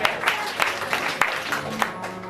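A church congregation claps and cheers briefly in a steady, moderately loud burst of applause with voices mixed in.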